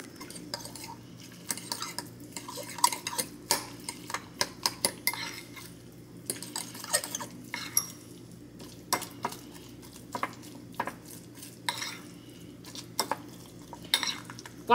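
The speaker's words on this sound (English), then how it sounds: "I get the pan really hot. So it's like you're going to fry the tuna. I just take a fork, mix everything up." A fork stirs a tuna mixture around a very hot pan, with repeated sharp metallic clinks and scrapes in an uneven rhythm over a low, continuous frying sizzle, close by.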